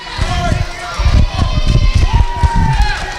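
Wrestling crowd at an NWA Smoky Mountain event cheering and shouting steadily throughout, a dense roar of many voices with bursts of yelling, while a commentator talks over it.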